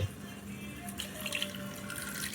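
A little water is poured into a pressure cooker holding eggs for an egg curry, giving a soft, close, trickling splash over a couple of seconds.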